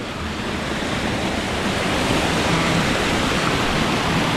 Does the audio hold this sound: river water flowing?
yes